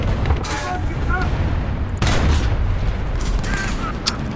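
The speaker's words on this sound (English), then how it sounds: "Something angry is shooting at me" Tank gunfire in War Thunder during a realistic battle, heard from a German VK 3002 (M), comes as repeated loud booms and cracks over a constant engine-like rumble, with a voice speaking.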